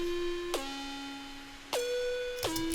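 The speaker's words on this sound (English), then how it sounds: "It sort of has this big sort of pitch down thing in the beginning." Serum synth pluck with a big pitch drop at the start of each note, three tonal notes that swoop down sharply then hold, playing alone.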